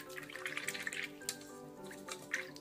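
A paintbrush swishes and drips as it is rinsed in a small pot of water, giving soft close splashes and trickles over a quiet room.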